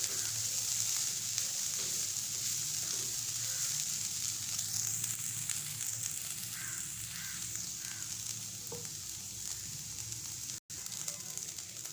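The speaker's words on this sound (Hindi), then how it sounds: "अब हम गाजर को भी 2 मिनट तक पकाएंगे।" Carrots frying in a pan for chicken buns, a steady gentle hiss of sizzling oil running continuously at a moderate level, with only a faint clink near the end.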